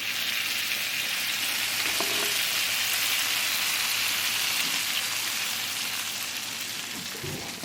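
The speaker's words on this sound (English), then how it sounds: "Get that nice sizzle." Hot, fresh-from-the-oven biscuits hiss in a steady, bright sizzle as melted butter is poured over them, a continuous crackling wash with no talking.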